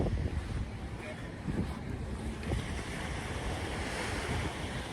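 Waves wash steadily onto a very small beach on Monterey Bay, with a broad continuous surf roar and gusts of wind buffeting the microphone.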